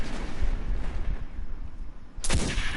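A hand cannon shot rings out in the video game Destiny 2, a single sharp, loud report with a brief echoing tail near the end, following a stretch of low rumbling game ambience.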